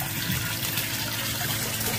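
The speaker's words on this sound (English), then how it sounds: "This is the water we're pumping up to acclimate them to this temperature" Water is pumped into a tub holding rescued koi from a muddy pond, a loud, steady rushing and splashing pour that fills the whole stretch close up, with no voices.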